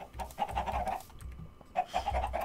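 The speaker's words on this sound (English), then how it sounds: "We have chickens." Chickens in a Minecraft farm cluck in short repeated bursts. Two clusters of clucks are split by a brief quiet gap, close and moderately loud, with no talk.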